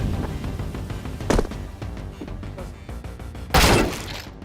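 A flashbang grenade detonates in a video game firefight as a sharp, loud burst near the end. A smaller crack comes earlier, over a bed of gunfire and game noise.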